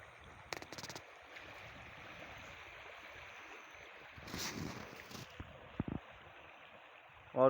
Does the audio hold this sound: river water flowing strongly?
yes